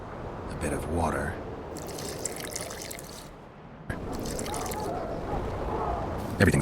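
Water poured in The Witcher 2: Assassins of Kings, a short trickling pour under a voice, with game sound in the background and the liquid noise rising and falling over several seconds.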